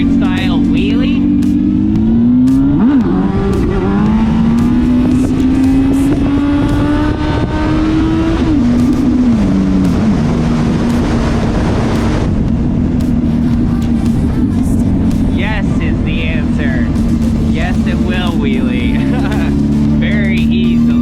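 A Honda 919 Hornet naked motorcycle with a heavy steel frame pulls hard in first gear for a clutched-up wheelie, its loud engine note rising and swelling, then easing and holding steady, close by and without any voices.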